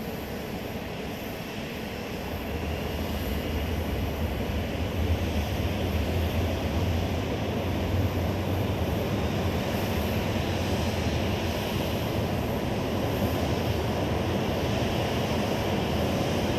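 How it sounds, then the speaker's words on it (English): Southwest Airlines airliner at Dallas Love Field starting its jet engines: a loud, broad roar rises at about two and a half seconds and then holds steady and continuous, with no talking. "Sounds like they're firing up the engines of that Southwest plane we were looking at the cockpit at."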